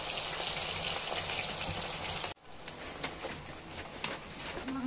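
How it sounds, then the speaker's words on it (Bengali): Onions sizzling in hot oil on a wood-fired clay stove, a dense steady crackle that drops out abruptly midway, then returns as a thinner hiss with scattered pops. "পেঁয়াজ ফোড়ন দেওয়া হচ্ছে দেখো।"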